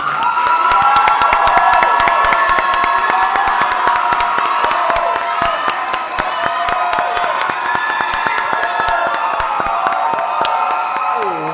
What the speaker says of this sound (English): Let's give our Miss Candace one more big round of applause.